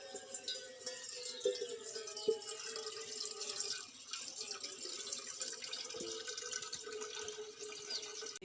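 Water runs from a tap while being collected for a puja ritual, a continuous splashing flow with occasional knocks and drips, moderately close and steady throughout.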